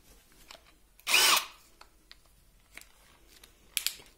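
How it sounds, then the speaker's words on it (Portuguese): A DeWalt DCD7771 brushless cordless drill, set to speed 2, bores into wood with a 13 mm bit. One loud, close whirring burst lasts under half a second, followed by faint scattered clicks and handling noises. "Vamos começar aqui com uma broca 13 milímetros para madeira, né?"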